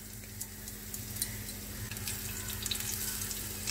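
Green chilli and grated garlic go into hot oil on a lowered flame, giving a steady, close sizzle and fine crackle with a faint low hum beneath, no voices.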